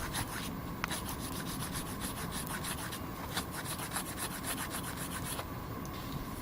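Steady back-and-forth rasping from a single cut file on a Walmart Ozark Trail 12-in-1 multitool, with even, repeated strokes, close and fairly quiet, and no talking.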